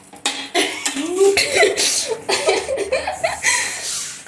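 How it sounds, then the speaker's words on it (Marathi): Someone choking on pasta coughs repeatedly in harsh bursts, interspersed with spluttering and a bit of laughter, close to the microphone. "हे सगळं पास्त्याचा ठसका आहे मित्रांनो"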